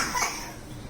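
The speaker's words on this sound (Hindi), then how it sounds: "खांसी हो रही है ना" A single short cough, close and fairly quiet, during a satsang gathering in Punjabi Bagh, with faint room noise behind it.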